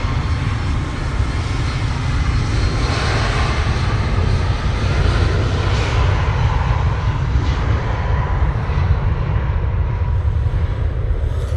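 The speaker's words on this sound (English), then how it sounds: "So this is the USC A340-300 coming in from Johannesburg." An Airbus A340-300 airliner on approach to land at Manchester Airport after a long-haul flight, its engines giving a loud, steady, broadband roar that holds close and constant throughout, with no talk.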